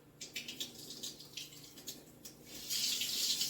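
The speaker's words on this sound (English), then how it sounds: "I'm going to put a little lukewarm water" Lukewarm water running from a kitchen tap into a cup for starting yeast, a soft splashing trickle that swells into a fuller, louder stream toward the end, close and alone.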